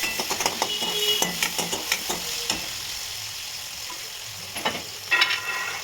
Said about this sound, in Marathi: जिरे मोहरी तडतडली त्यात मी टोमॅटो टाकला. हात तेलात टोमॅटो मी चांगला परतून घेणार.